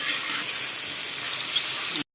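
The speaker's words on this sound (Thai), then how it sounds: "อันนี้เราก็ผัดเห็ดหอมไปนะจ๊ะ" Shiitake mushrooms stir-frying in a pan for Thai fried vermicelli, giving a steady, close, bright sizzle and hiss that holds constant before cutting off abruptly.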